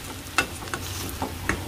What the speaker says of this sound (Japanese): あとはね弱めの中火でじっくり焼いていくだけ。